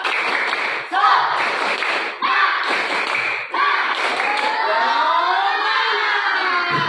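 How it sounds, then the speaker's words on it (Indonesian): Students in a classroom repeat a rhythmic clapping chant, loud patterned bursts of many hands clapping together with shouted chanting voices throughout. "Sekali lagi, tepuk semangat."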